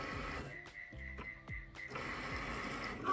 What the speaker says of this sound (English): So here you'll see the Cricut cutting out the design